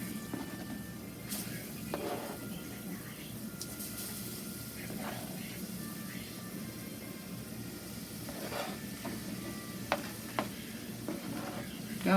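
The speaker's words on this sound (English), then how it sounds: "You could hear it sizzling." Onions and seasoning sizzle in a hot roux, a steady close frying hiss with occasional stirring scrapes and clicks, continuous throughout without talk.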